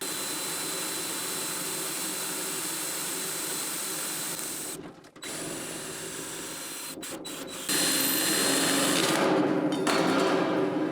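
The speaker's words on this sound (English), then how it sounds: "This is a Klein tool circle cutter. It uses a cordless drill as the cutting power." Cordless drill spinning a Klein circle cutter through sheet-metal HVAC duct, a steady whirring hum with brief stops and restarts, growing louder near the end, close with no talk.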